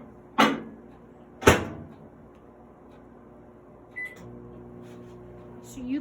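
A microwave oven hums steadily while melting caramel fudge ingredients, opening with two sharp door clunks and ending with a short beep and faint clatter, all close by.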